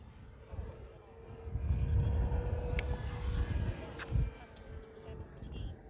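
An E-flite Draco radio-controlled airplane with a 2.0 m wingspan climbs after takeoff, its electric motor giving a high, thin whine that sits faintly over steady wind noise outdoors.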